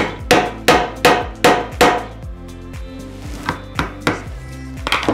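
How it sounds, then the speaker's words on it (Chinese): A flathead screwdriver knocks against a nail lodged in old reclaimed wood to loosen it: a series of sharp, close, ringing taps, four strong evenly spaced strikes followed by several lighter ones. "就可以拿一字起子，去敲击这个钉子"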